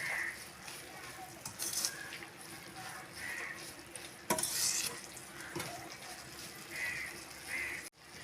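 Red amaranth spinach fries in a pan with salt, a gentle sizzle under intermittent stirring scrapes and a brief utensil clank, with a voice speaking over it.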